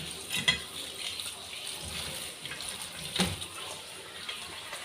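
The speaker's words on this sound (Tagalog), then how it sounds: "Ugasan lang natin ang gulay." Tomatoes, okra and chilies rinsed under running water at a kitchen sink, giving a quiet, steady trickle with a few brief splashes and knocks, close but faint, with no voices.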